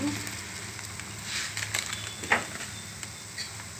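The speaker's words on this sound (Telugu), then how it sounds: "అలాగే కరివేపాకు వేసుకొని వేయించుకుందాం అలాగే జీలకర్ర వేసుకుందాం" Curry leaves and cumin frying in a pan give a steady, soft sizzle with a few sharper crackles and pops, close and alone.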